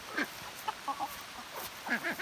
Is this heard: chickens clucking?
yes